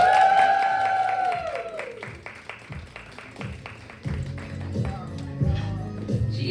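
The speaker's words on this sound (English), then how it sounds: "So please give a massive round of applause for Shan Styling." An audience claps and cheers at a salon event, with a burst of sustained applause that thins into scattered claps, while a voice briefly speaks near the end.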